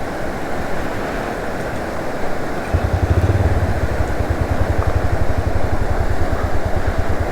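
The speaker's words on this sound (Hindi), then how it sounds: "मैं मोटरसाइकिल को स्टार्ट रखता हूँ ताकि थोड़ा," Motorcycle on a mountain road kept running while parked, a low rapid engine putter that starts partway through and pulses steadily under gusty wind noise.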